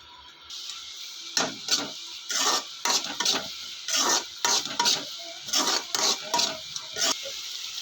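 A spoon scrapes and clinks against a pot in repeated stirring strokes as jaggery is stirred into mango pachadi, close and clear over a faint background hiss.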